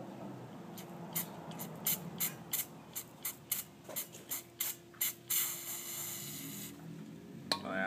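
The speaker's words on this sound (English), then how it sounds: "I'll spray it again." Brakleen brake cleaner aerosol sprayed at a centipede in a series of about a dozen short sharp hissing bursts, then one longer steady spray, close and loud over a low background hum.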